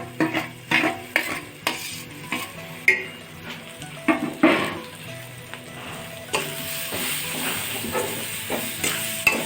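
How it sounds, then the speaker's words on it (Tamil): Ground masala paste for crab fry frying loudly in a pan, with repeated scraping and clinks of a spoon stirring against the metal over continuous close sizzling. "இந்த மசாலா அரைச்சி வச்சோம்ல, அந்த மசாலாவை போட்டு நல்லா வணக்கிக்கலாம்"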